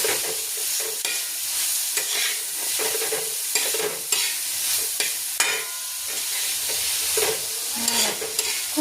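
Grated eggplant is stirred into a sizzling spice masala in a pan, with repeated scraping strokes of a spoon against the pan over a constant close frying hiss.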